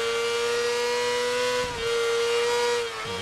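A Moto2 motorcycle engine in MotoGP 17 screams at high revs at the Motegi circuit while running up to a left-hander. The steady whine briefly dips twice as if shifting, with no talking.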